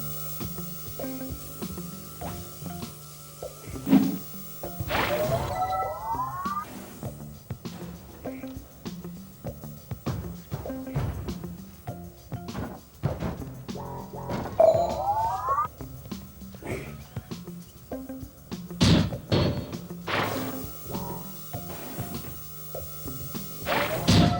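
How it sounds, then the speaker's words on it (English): Glass shattering in the puzzle video game Quantum Conundrum: a few sharp, crashing smashes stand out over steady game music and ambience, with some scattered thuds between them. "the breaking of this glass is a necessary evil"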